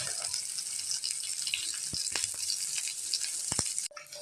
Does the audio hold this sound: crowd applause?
no